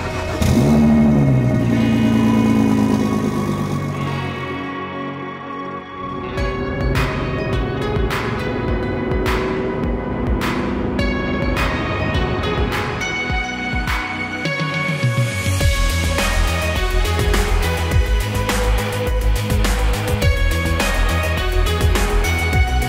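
A BMW Z4 GT3 race car on the 2014 Gumball 3000 rally runs close by, its engine revving and shifting through repeated sharp bursts before settling into a loud sustained drone.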